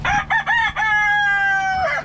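Morning farmyard chickens come out of their coop, a rooster crowing one long cock-a-doodle-doo right after several short clucks and calls, loud and close with no talking.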